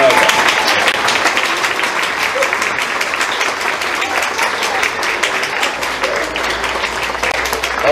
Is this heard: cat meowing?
no